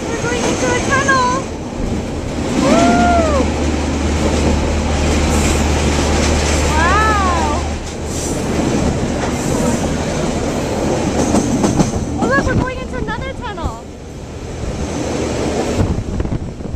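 A TranzAlpine passenger train rumbles steadily as it heads into a tunnel, with loud, continuous roaring noise, rattling, and brief whistling squeals over a low drone.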